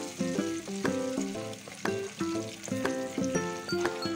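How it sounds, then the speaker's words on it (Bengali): Chicken pieces fry crisp in hot oil with a continuous close sizzle, sharp crackles and occasional stirring clatter, beneath a steady musical backing. "এভাবে আমি বাকিগুলোকে ভেজে নিব"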